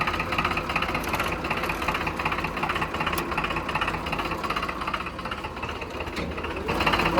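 Old Kirloskar-engined tractor idling with a steady, close mechanical rumble and faint knocking, around 1000 RPM, its worn clutch being pressed; no talk.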